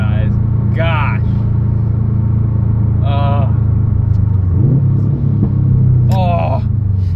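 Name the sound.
turbocharged car engine driving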